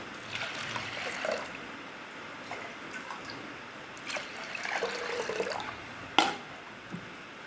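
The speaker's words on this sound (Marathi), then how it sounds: "त्याच्यात पाणी घेऊया आपण" Water trickles into washed lentils for dal, a soft close pour with gentle dribbling and one sharp clink near the end, no voices.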